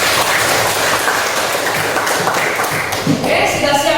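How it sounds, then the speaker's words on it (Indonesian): A geography class applauds after fieldwork observation, loud close clapping from a roomful of students with a few sharper taps and a thump near the end, mixed with some murmuring voices. "kita tepuk tangan buat semuanya"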